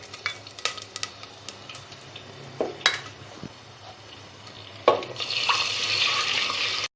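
Garlic and ginger sizzle in half a cup of hot oil, a steady frying hiss with occasional stirring scrapes and utensil clinks, the sizzle growing louder and fuller toward the end.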